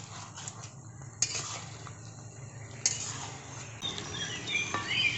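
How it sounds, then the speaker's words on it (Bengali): A spoon scrapes and stirs chicken curry in a pot so it won't stick, soft metallic clinks and shuffles with a few sharper knocks over a low background hum, fairly faint and without talk. "এটা ভালো করে আমরা একটু নাড়িয়ে নেব যাতে নিচে ধরে না যায়"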